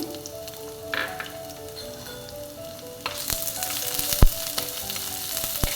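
Crushed garlic and chopped onion sizzling in oil in a pan for prawn curry, a steady close crackle that grows louder and busier midway, with light stirring.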